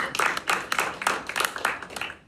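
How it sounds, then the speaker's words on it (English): An audience at a stand-up comedy show claps in uneven bursts, a scattered cluster of hand claps rising and fading over a couple of seconds, close and fairly loud. "Clap your hands if you ever heard of Boondocks"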